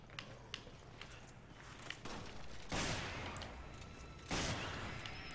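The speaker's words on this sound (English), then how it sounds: "Two shots." Gunfire from the Resident Evil 5 video game, two loud bursts standing out over a busy backdrop of faint clicks, taps and game ambience.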